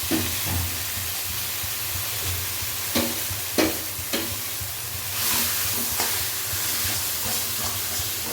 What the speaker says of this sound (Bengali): কড়াইয়ের ভেতর এবার দিয়ে দেবো ছানাটা।